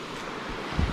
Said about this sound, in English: Got some waterfalls down here